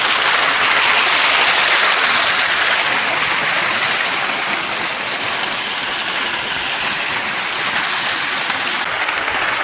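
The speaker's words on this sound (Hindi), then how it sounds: "काफ़ी ऊपर से आ रही है पानी।" Water tumbles from high up in a jungle stream over rocks, a loud, dense, continuous roar of falling water that stays steady throughout with no speech.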